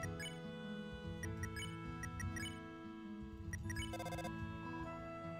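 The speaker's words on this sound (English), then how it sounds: "The phone is ringing, but you can't get it." A phone rings in the video game Deltarune, a repeating electronic ring layered over steady game music with a bright trill partway through.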